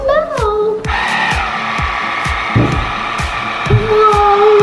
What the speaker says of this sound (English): I'm gonna try the blender on low.